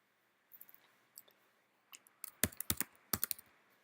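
Keys clatter on a computer keyboard as text is entered into a filter box, sparse taps at first, then a quicker burst of crisp clicks, close and alone.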